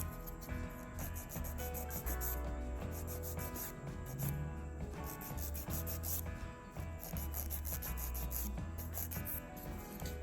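A file squares off the free edge of a dip-powder manicure nail, producing a steady, close rubbing rasp that runs continuously under a background of music.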